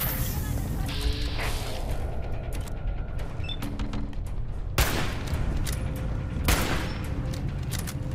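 Gunfire in the video game Fallout 4 inside the Mass Fusion building, with repeated shots and impacts over a dense, busy game soundscape and a few sharp bursts standing out.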